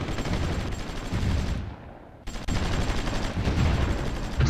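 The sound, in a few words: battle gunfire from the video game Supreme Ruler Ultimate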